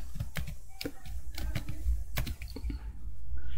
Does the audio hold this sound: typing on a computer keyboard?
yes